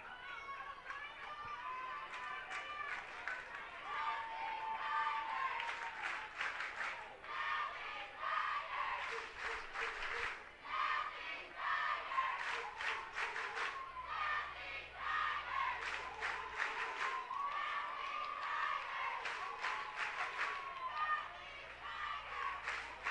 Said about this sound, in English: Clark draws a big ovation from the Tiger crowd.